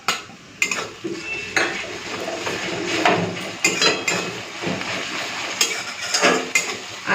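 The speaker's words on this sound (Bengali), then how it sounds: "আদা রসুনটাকে একটুখানি ভেজে নেবো যতক্ষণ ওর কাঁচা গন্ধটা না যাচ্ছে" Ginger garlic paste hits a pan of browned onions and fries with a steady sizzle, broken by repeated scraping and clinking stirs of a spoon against the pan; close and moderately loud, with no talking.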